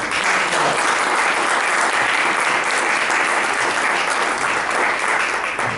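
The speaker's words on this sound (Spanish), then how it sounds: "para quien también pido un aplauso." An audience at a book presentation applauds for the journalist Horacio Embón, with dense, steady clapping that stays loud and even for several seconds, no voices standing out.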